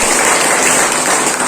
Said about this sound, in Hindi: उनका तालियों के साथ हम लोग स्वागत करें।